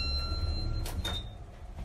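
Elevator door at the Hampton Inn & Suites in Ballantyne sliding shut, a close, brief mechanical whoosh and rumble with a high hum before it and low machinery rumble throughout.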